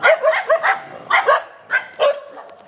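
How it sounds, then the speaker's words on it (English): A dog barks in a series of loud, close yips and woofs, several quick barks in bursts with short pauses between them, heard alone without talk. "So the dog is barking behind me"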